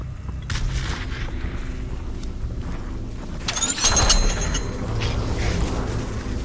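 A grenade explodes in the VR shooter game Population: One as a sudden loud, bright blast with a rumbling tail, following a stretch of quieter mechanical game noise and footsteps.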